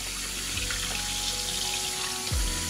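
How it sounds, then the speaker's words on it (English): Cold water runs from a tap into a sink during disc golf disc dyeing, a steady hiss of flowing water with a couple of faint clunks, no voices. "We're gonna start the cold water."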